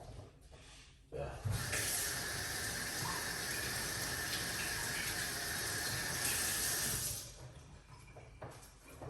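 Tap water gushes steadily over a whole pineapple held under a kitchen faucet, a constant splashing rush that begins abruptly, runs for several seconds and then cuts off.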